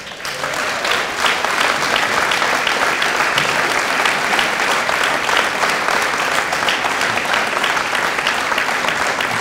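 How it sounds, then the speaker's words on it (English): Crowd at a state treasurer's inauguration breaks into sustained applause, dense and loud clapping that holds steady for several seconds without pause. "I wouldn't clap too hard."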